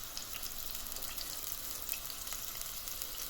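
Food roasting in oil in a pan gives a steady, soft sizzle and crackle, even and unbroken throughout with no talking.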